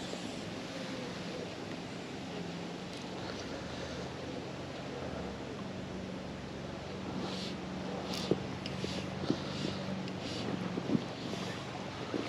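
Steady wind rushing past the microphone beside a river during fly fishing for brown trout and grayling, a constant broad roar with low buffeting and a few faint clicks near the end.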